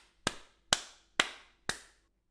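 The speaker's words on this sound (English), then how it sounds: "let's hear the claps real quick" Four crisp hand claps, evenly spaced and close, ring out in a quiet room with short decays and no other sound between them.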